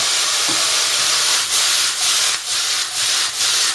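Veg noodles with soy sauce being tossed in a hot pan, a loud hissing sizzle that swells and dips rhythmically with each toss.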